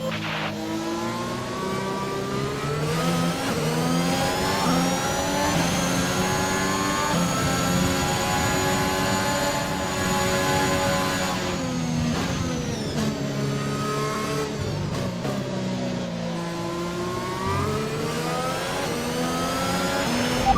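A Formula 1 car engine in the F1 2021 video game, driven on the formation lap at Baku, drones and revs up and down steadily throughout, loud and close.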